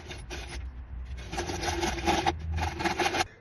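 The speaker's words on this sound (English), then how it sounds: "I forgot to cut those little PVC rings for the spacers," Close rasping and scraping of a blade cutting through small PVC pipe rings for light-fixture spacers, steady back-and-forth strokes with brief pauses, no talking.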